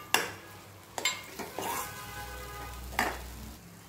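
Potato pieces stirred into spice paste in a hot pan, a soft sizzle with a few sharp spoon scrapes and knocks against the pan, close and fairly quiet.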